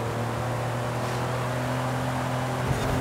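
Race car engine in Forza Horizon 5, a steady droning hum of a car at speed held throughout a point-to-point race, with no clear rise in revs and no talk.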